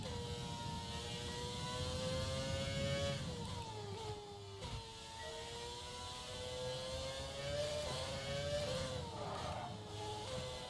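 An F1 2020 video game race car engine whines steadily at high revs, its pitch rising and dropping back sharply at several upshifts, a continuous close drone.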